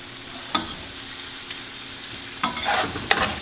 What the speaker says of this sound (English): The last bit of the meat is going to cook down.